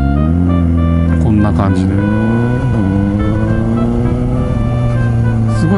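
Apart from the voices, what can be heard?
Suzuki GSX-S750 motorcycle pulling away from a stop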